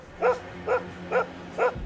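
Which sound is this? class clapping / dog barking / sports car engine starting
dog barking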